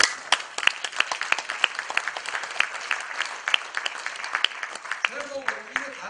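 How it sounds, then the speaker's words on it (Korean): Scattered audience clapping at a Busan legal professionals' seminar on AI use, sparse, uneven claps rising and fading in a small room, with a voice talking over it near the end. "박수 안 칩니까?"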